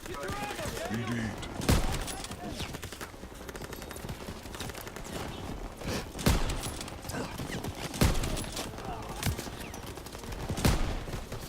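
Video game gunfire, with sharp loud shots at irregular intervals over a dense, busy battle din, and voices talking and shouting in the background.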